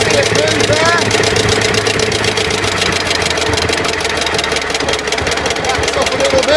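A John Deere BN tractor engine runs steadily with its governor working, a loud, continuous close-up drone with a knocking pulse that holds an even pace throughout.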